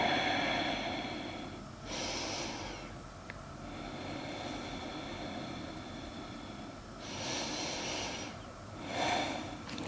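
Slow, audible breaths during a yoga exhale, a few soft airy bursts spaced several seconds apart over a quiet room hum, close to the microphone.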